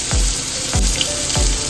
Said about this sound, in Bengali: ওই তেলে আলুগুলো ভেজে নিচ্ছি